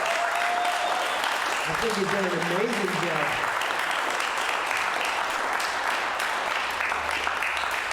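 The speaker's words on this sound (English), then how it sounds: "Will you give him a round of applause, please?" Crowd applause at an outdoor community festival, a steady wash of clapping throughout, with a voice speaking briefly over it near the start.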